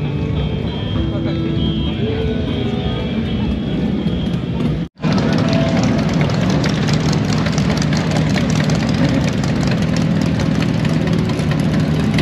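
A 1941 motorcycle with an 80 cubic inch flathead engine running at bike week, a loud, close, rough low rumble that cuts out briefly then resumes steadily, with people talking nearby.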